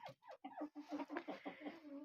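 A rooster in a snowy yard gives a run of quick, throaty clucking calls, faint and at a distance, with no talk over it.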